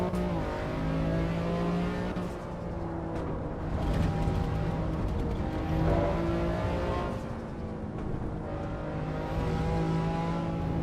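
A Volvo S60R engine revs and accelerates in a racing simulator game, a steady loud droning roar with rising and falling pitch through gear changes, continuous throughout.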